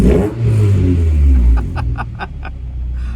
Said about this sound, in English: listen to that Honda